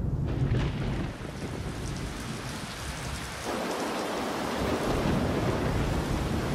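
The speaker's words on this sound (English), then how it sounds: "The monsoons of the Western Ghats are legendary, dropping almost 9 meters of rain annually in some places." Heavy monsoon rain pours steadily across the Western Ghats with low rumbling thunder, a dense continuous hiss that dips briefly and then swells again.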